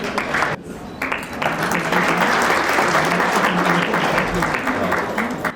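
Applause rolls through a hall at a Founder's Day prize distribution, loud and sustained after a brief dip near the start, with voices heard under the clapping.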